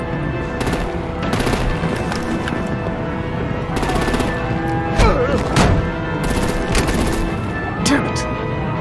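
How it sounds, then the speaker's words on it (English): Rapid automatic gunfire and heavy artillery blasts in a Batman video game battle, dense bursts of shots with sharp booming impacts over continuous loud combat noise and occasional voices. "Break out the artillery and disable their vehicles!"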